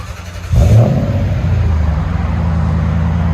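A 1999 Lexus GS 400 4.0L V8 with a Borla Pro XS dual exhaust revs once, jumping abruptly from idle to a loud, deep roar that holds and slowly eases off, heard close with no talking.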